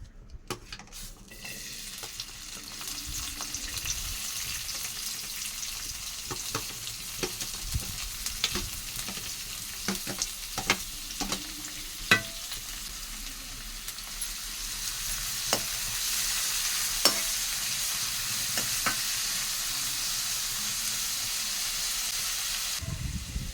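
Onions sizzle in a pan while a utensil stirs them, giving a continuous frying hiss broken by repeated scraping and tapping strokes that grow denser and louder toward the end.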